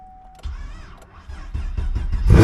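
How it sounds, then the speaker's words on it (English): A 5th-generation Chevrolet Camaro with a hot-start problem cranks after a short warning chime, its starter whirring in uneven pulses before the engine catches and roars loudly at the end. "I heard that starter working, so the starter is good and the car is starting"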